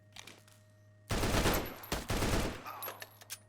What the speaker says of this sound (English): Oh, this machine gun's pretty good.